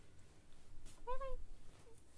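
A pet cat gives a single short, rising meow, close and soft, against quiet room noise, with a voice talking nearby.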